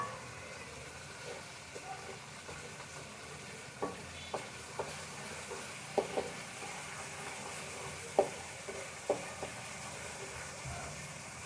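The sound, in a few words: ginger and garlic frying in a pan for arvi curry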